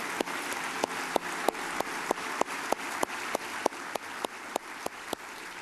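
Audience applause for a man being inducted into the Ohio Basketball Hall of Fame, a steady faint clapping wash over a hall with one sharp clap standing out at regular intervals.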